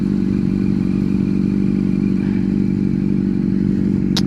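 A Kawasaki Ninja 500R motorcycle running, a loud, steady engine drone heard up close at a constant pitch, with a brief sharp click near the end and no voices.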